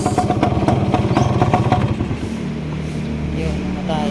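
A Yamaha DT 175 motorcycle engine runs close by, loud and buzzing with rapid pulses, then drops to a steadier, lower idle after about two seconds.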